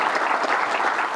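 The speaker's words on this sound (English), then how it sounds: "Let's give her a big round of applause" An audience applauds warmly for an assemblymember at a state governor's event, a dense and steady wash of clapping that fills the whole short moment.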